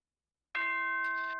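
A chime from the game Danganronpa rings out alone after a moment of silence, a single clear bright bell-like tone that sustains and slowly fades.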